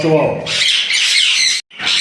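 Caged birds in a bird seller's collection give harsh, raspy chirps at close range, a quick cluster of calls broken by a brief pause before another burst.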